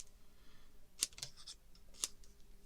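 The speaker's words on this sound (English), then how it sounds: "So let's go in with our scissors" Scissors snip a paper stencil, two or three sharp crisp cuts a second apart over quiet room tone.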